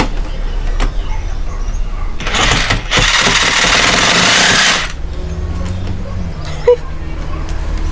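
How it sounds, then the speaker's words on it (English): A Sawzall reciprocating saw briefly buzzes loudly as it cuts into plastic jugs, a harsh burst of a few seconds up close, with voices and background noise before and after. "So we're going to be using the Sawzall."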